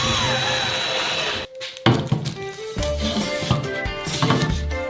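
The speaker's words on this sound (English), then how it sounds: "Now you need to cut the plywood for the walls with an electric jigsaw." An electric jigsaw cuts plywood, a dense buzzing rasp up close that stops briefly and then resumes, with tonal whine and irregular chattering over a few seconds.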